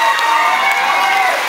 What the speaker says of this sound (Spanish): fuerte el aplauso para ellas, por favor